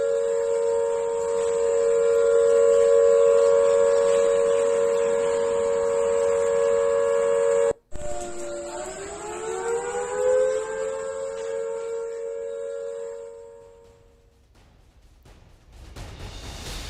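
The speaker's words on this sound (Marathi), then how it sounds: "चंदीगडमध्ये सतत एक सायरन 10 मिनिटांपासून वाजतोय" An air raid siren wails continuously in Chandigarh with a strong steady tone, cuts off abruptly, then rises again in pitch and trails away before a low rumble at the end.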